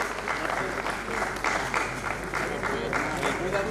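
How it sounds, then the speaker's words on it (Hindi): Audience at an honoring ceremony applauding a guest, a continuous clapping wash with pulsing bursts throughout, mixed with crowd murmur. "श्री मनफूल सिंह जी के सम्मान में तालियों का अभिनंदन कर आपका अभिनंदन करें।"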